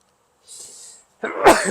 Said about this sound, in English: I'm going to sneeze here in a second, so please forgive me